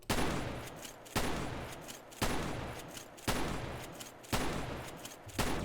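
Weapon 25 in SAMP (San Andreas Multiplayer) fires six loud, sharp gunshots about a second apart, each with a short decaying tail.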